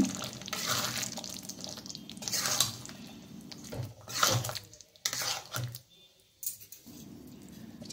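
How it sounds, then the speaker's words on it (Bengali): Water swished around a bowl to rinse it and then poured into a creamy Mughlai chicken gravy, with sloshing and splashing, light clinks of the bowl against the pot, and a brief pause near the end. "বাটিটা ধুয়ে জল দিয়ে দিলাম।"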